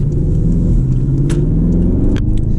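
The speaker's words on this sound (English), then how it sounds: "But you can hear the V8." A Porsche Panamera Turbo V8 in sport mode rumbles steadily from inside the cabin, a deep continuous engine drone with a brief click or rattle partway through and no talking.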